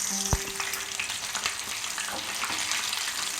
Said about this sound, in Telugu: సూపర్గా వేగుతుంది చూడండి